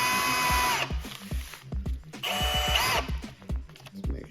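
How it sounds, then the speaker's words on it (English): A unibit step drill cuts metal on a radiator part for a 1974 VW bus with a Subaru engine, two whining drill bursts with rising pitch broken by clunks and knocks of handling, close up. "I am gonna cut that with a unibit and see how it cuts."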